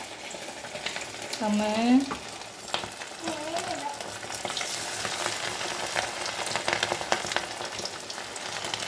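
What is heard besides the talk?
quail pieces frying in oil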